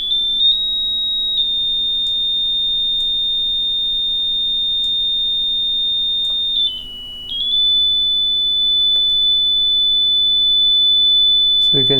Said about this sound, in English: So I connect a small buzzer to the waveform generator.